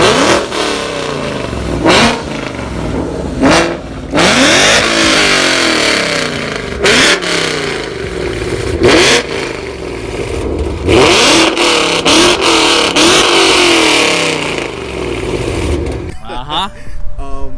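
A 5.0 Ford Mustang with a catback exhaust and long-tube headers revs hard over and over, each loud rising blast falling back between throttle stabs, close and raw throughout.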